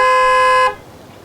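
A small car's stock horn gives one steady, loud honk lasting just over half a second, then cuts off sharply, with no voices.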